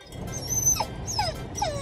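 Dog whimpering in a car on the way to the vet, three thin, high whines rising and falling in quick succession, faint over low road rumble.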